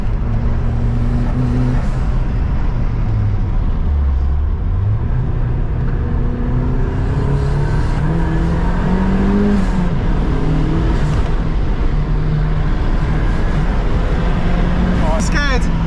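A sports car engine drones and rises in pitch as it accelerates, heard from inside the car with steady road and wind roar throughout.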